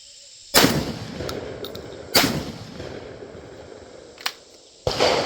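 Mac 1014 shotgun fires two sharp, loud blasts, each followed by ringing decay, then a lighter mechanical clack and a final abrupt report near the end, with no voices.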